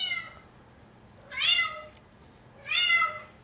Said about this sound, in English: I have never heard a cat make this noise before.